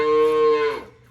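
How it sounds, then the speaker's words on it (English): A three-quarter Jersey, one-quarter Dexter milk cow gives a single loud, close moo lasting under a second, full and tonal, then trailing off. "The animal that gives you the most on the farm, I believe, is the milk cow."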